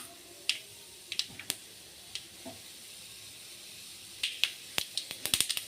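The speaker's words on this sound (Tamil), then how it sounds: "எண்ணெய் காஞ்சதும் கொஞ்சமாக உளுத்தம்பருப்பு, கடலைப்பருப்பு, அதோட கடுகு கொஞ்சம் சேர்த்துக்கலாம்" Mustard seeds, split urad dal and chana dal sputtering in hot oil for a pumpkin stir-fry: scattered sharp pops and crackles, some in quick bursts, over a soft steady sizzle, with no talking.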